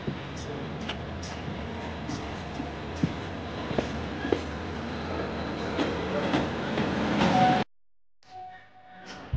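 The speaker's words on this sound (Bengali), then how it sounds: "অবশেষে ট্রেন পৌঁছে গেল হরিদ্বার" A long-distance train from Kolkata pulls into Haridwar station with a continuous rumble and rhythmic clickety-clack of wheels over rail joints that grows louder, then cuts abruptly to a much quieter stretch of faint background sound.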